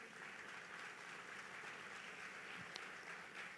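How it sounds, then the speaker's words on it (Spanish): Church congregation applauding together in a steady, dense wash of clapping that holds evenly throughout, fairly distant and soft, with no voices rising above it. "dale fuerte ese aplauso al Señor"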